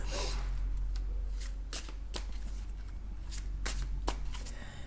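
Tarot cards being shuffled and drawn by hand: a continuous close riffling rustle broken by several sharp card snaps and flicks, moderately loud, with no talking.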